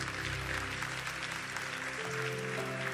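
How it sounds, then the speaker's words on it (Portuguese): Congregation clapping together during a church service, a steady dense wash of applause heard up close with organ or keyboard music sustained underneath. "Aplauda o Senhor."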